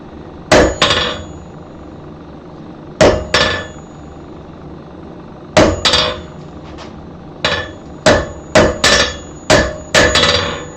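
A hammer strikes hot steel on an anvil while forging notches, sharp ringing blows landing alone in scattered groups of one to three, loud and close with brief metallic decay after each hit.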